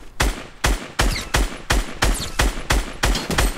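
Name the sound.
gunfire in Fortnite, a video game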